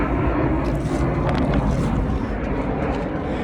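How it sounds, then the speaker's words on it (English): A fixed-wing airplane circles overhead, a broad, steady roar mixed with wind buffeting the microphone, moderately loud and continuous, with no talk. "That plane, no, he just flew around."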